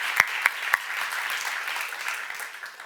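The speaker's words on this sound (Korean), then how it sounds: "박수 세게 쳐봐" Church congregation applauding at a Korean Jesus-centered church seminar, a few sharp individual claps up front before a steady wash of applause from the room, moderately distant and fading slightly toward the end.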